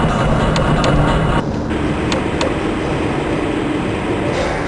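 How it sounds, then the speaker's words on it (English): A transit train in the Half-Life: Blue Shift video game rumbles steadily along its track, a loud continuous roar with faint clicks and a brief dip partway through, no talk. "This train is inbound from the Area 8 topside dormitories to the Central Transit Hub in Area 9."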